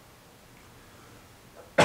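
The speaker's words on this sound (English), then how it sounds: "Did you really just sneeze out a demon" A single sharp sneeze bursts out loud and close at the very end, after near-silent room tone.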